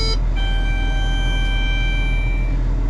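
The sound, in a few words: seeder monitor screen startup beep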